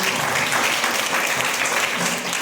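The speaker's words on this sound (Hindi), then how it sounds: "प्रभु के लिए जोरदार ताली बजाइए।" A church congregation claps loudly together in dense, sustained applause that fills the room, with no speech over it.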